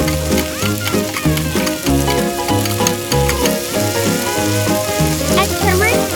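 Potatoes, carrots and garlic in oil crackle in a miniature pan as they are stirred and flipped, the frying hiss steady beneath a constant musical backing.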